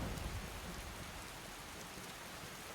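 Heavy driving rain at night in Skyrim, a steady dense hiss of downpour with a stronger low rumble at the start, constant and close with no voices.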